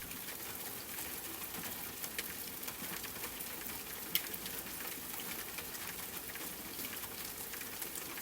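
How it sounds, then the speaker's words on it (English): Gentle rain falls steadily at a soft, even level during a storm that has eased, with faint scattered patter and an occasional single louder drop, no voices. "the storm had softened into gentle rain"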